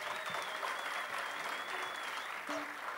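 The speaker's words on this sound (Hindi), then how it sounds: "तालियां बनती है यार" An audience applauds at a music event in Mumbai, steady clapping throughout the short span, with a held vocal or instrumental tone faintly over it.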